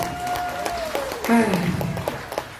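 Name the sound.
audience applause at training seminar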